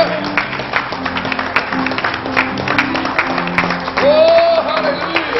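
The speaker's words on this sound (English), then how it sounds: "Give Him a hand clap." Church congregation clapping in praise at a Pentecostal evening service, steady rhythmic hand claps mixed with organ or music tones and voices, growing louder near the end.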